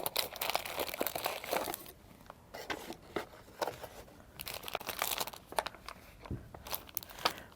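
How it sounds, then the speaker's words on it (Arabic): Cardboard packaging of a neutral box holding a truck SCV valve is opened by hand, giving close, uneven crinkling and crunching with bursts of tearing and rustling and brief pauses, with no voices. "والآن دعونا نفتح الصندوق لرؤية داخله."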